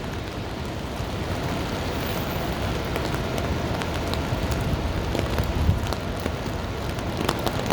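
Steady rain falls on a downtown Chicago street in Streeterville, a dense, even hiss of drops on pavement with occasional sharper splashes close by.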